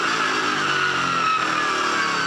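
A 2008 V8 Supercar race car engine at Oran Park circuit, droning steadily at high revs with a strong whine as it pulls through the gears, loud and close, with no talk.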